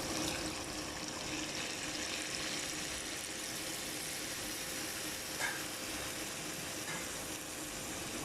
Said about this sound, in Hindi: अभी मैं इसमें डालने लगी हूँ इमली का पानी